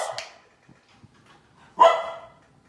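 A dog barks twice nearby, a quick pair of yaps at the start and a louder single bark later, with quiet pauses between.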